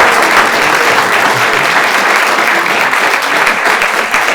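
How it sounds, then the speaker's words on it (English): A crowd at a town panel discussion on trash gives a big round of applause, loud, dense and continuous clapping from nearby with no break. "Let's give them a big round of applause."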